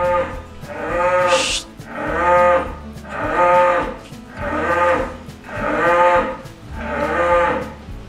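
A Madura cow, one of the cattle being loaded into a truck on a farm, gives six long, loud, resonant moos in a steady repeating rhythm close by, with no talking.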